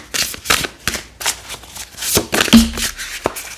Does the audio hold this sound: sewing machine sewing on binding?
no